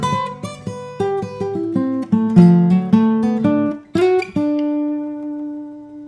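A clean electric guitar plays a quick bluegrass-style melodic lick of plucked single notes, ending on a sustained ringing note, with no talking.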